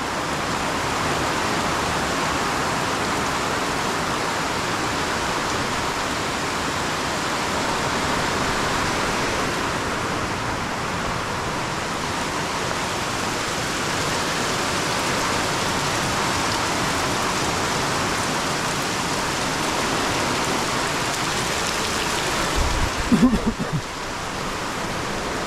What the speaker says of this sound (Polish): Pierwsza filipińska ulewa.